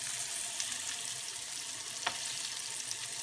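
Food fries in a pan with a continuous sizzling hiss and scattered small pops, one crisp crackle standing out midway, heard close and alone without talk.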